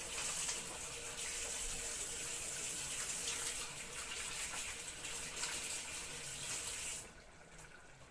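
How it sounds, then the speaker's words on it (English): Hands are washed under a kitchen tap, and the water runs in a steady, close splashing stream that stops abruptly near the end, leaving a faint drip. "Let's wash our hands first."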